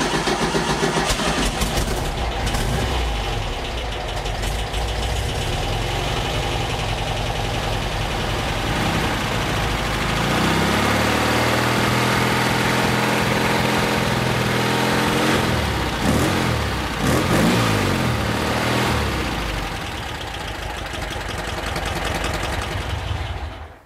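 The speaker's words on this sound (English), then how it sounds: "what I want to do is start up the engine, run it a little bit" A Porsche 356C engine cranks, fires and keeps running steadily for the whole span, close up and loud, with a shift in pitch and rhythm partway through as it settles; no one speaks.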